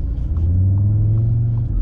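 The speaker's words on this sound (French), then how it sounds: "L'échappement il claque bien quand même" A new 2020 Audi RS Q3 with 400 horsepower rumbles deeply from its engine and exhaust, a loud, close, steady low drone with a faint pulsing texture under the cabin.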